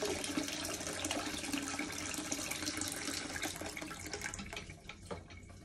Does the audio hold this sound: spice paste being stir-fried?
no